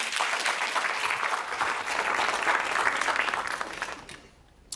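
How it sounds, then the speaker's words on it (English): A keynote audience at a water summit gives sustained, even applause, a dense wash of clapping that holds steady and then tapers off near the end. "So a round of applause."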